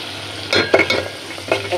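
Turmeric and chili powder frying in a pan as it is stirred, a steady close sizzle broken by a few sharp scraping strokes of the spoon against the metal.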